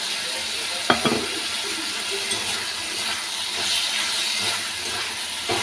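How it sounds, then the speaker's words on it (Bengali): Potatoes fry in a pan with a steady broadband sizzle throughout, broken early by a sharp utensil knock or two against the pan. "চলো এটা ভালো করে একটু ভাজা ভাজা হয়ে যায়, তারপর অল্প একটু জল দেবো, হয়ে যাবে।"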